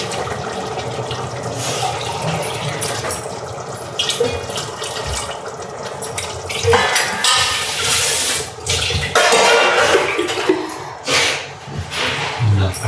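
Water runs and splashes as rice is washed in a pot for a home-style bachelor biryani, a close continuous gush that swells and sloshes, with a person talking over it.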